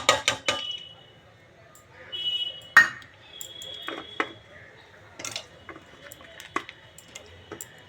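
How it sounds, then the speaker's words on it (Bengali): Dry mung dal lentils tipped into a pot of water, with a brief rattling pour and scattered metallic clinks of the pot and utensils, fairly close and moderately quiet. "ডালটা দিলাম"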